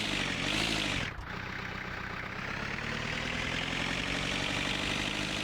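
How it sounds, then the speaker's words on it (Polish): The van's diesel engine idles in My Summer Car, a steady, loud mechanical drone with a brief dip early on, then a constant running hum. "Posłuchajcie tego silnika diesla."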